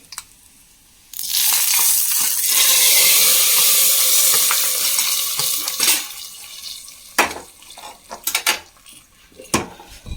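Fried coconut mix hits hot onion sambar with a sudden loud hiss and sizzle that sustains for several seconds and then fades into scattered clinks of a utensil against the pot.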